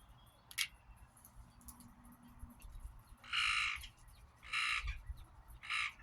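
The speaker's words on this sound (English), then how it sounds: "Got a blackbird over there in the bushes." A blackbird in bushes gives three harsh, raspy calls spaced a second or so apart, fairly faint over quiet outdoor background, with one short chirp earlier.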